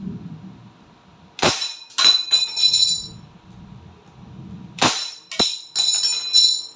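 A Crosman P10C Phantom polymer semi-automatic air pistol fires several sharp cracking shots in irregular clusters, each a loud close snap with a brief metallic ring, separated by short quiet gaps.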